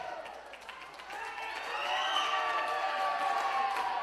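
A wrestling arena crowd swells into loud, sustained cheering and whooping for McChesney during a match, building from a steady roar to a fuller, louder crowd noise that fills the whole stretch.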